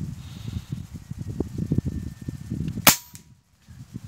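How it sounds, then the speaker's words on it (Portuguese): A single sharp shot from a Behemoth 5.5 bullpup air rifle cracks out loud and close, standing alone over steady wind noise outdoors, then a brief quiet follows. "O primeiro disparo, pessoal, sempre ele dá uma dispersada mesmo, tá?"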